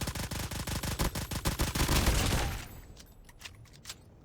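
A mythic Fennec gun fires in a video game: a rapid, loud, evenly paced burst of shots lasting over two seconds, then a fading tail with a few small clicks and ticks.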